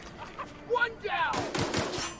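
Gunfire as someone shoots, a quick series of sharp cracks in the latter half following brief vocal sounds, moderately loud with a rough, clattering burst.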